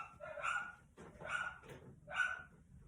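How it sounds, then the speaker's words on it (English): A dog barks three times in a row, evenly spaced about a second apart, each bark loud and fairly close, heard alone indoors. "My dog is barking, so I'm going to shut this door."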